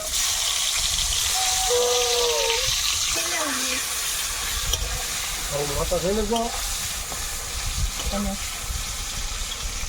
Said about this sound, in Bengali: এবারে টমেটোটা ভেজে তুলে নেব